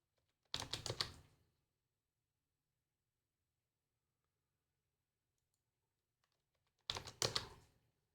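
Two short bursts of rapid computer keyboard typing, each about a second long and separated by a long stretch of silence, close and fairly quiet.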